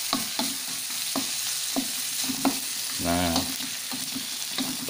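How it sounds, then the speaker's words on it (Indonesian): Shallots, garlic, tomato and chili sautéing in oil sizzle steadily up close, with regular scraping stirs of a utensil in the pan and a single brief spoken word midway. "bawang merah, bawang putih, tomat, cabai ditumis matang, udah harum nih, sedap banget"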